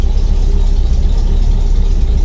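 A small V8 car engine idles steadily with a deep, continuous rumble, loud and close, with no voices.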